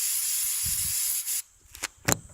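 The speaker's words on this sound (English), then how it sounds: "spray that one too." WD-40 aerosol sprayed onto a car headlight during restoration: a steady hiss lasting over a second, then short quick spray bursts, close to the microphone, with faint handling noise beneath.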